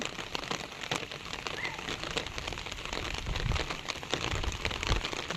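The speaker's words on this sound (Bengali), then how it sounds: "মুষলধারে বৃষ্টি হচ্ছে।" Heavy rain pours down steadily, a dense hiss of drops pattering on surfaces, loud and close with no voices.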